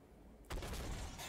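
An MBT-70 tank cannon fires in Armored Warfare, a single deep boom that erupts after low engine rumble and rolls on into a sustained heavy roar, close and loud.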